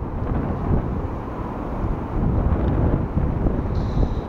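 Strong wind buffets the microphone outdoors on a winter pike-fishing shore, a loud continuous low rumble that swells and surges without a break and with no talking.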